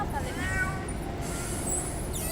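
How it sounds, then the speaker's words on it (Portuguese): A cat in a pet carrier bag during travel to the United States gives drawn-out, wavering meows, close and fairly loud over steady background noise, with no talking. "Tadinho, não precisa miar, não."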